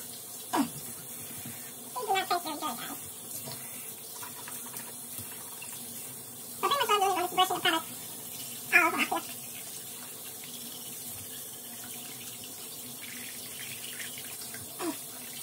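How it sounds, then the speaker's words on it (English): Tap water runs steadily into a bathroom sink while a mouth is rinsed, a low hiss throughout with several short gurgling and spitting bursts, close and quiet. "Give my mouth a good rinse."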